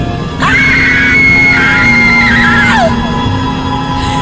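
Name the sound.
hysterical screaming in a horror radio story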